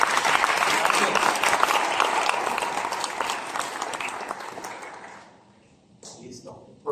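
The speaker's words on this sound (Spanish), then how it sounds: "Aplauso para Poncho." Audience applause welcoming a guest speaker to the stage at a Mexican entrepreneurship event, a dense burst of clapping that fills the room, then fades out near the end as a voice starts to speak.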